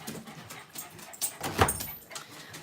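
A dog whimpers and yips softly in short, scattered bursts at a house entrance, mixed with door and shuffling noises and quick panting, moderately close.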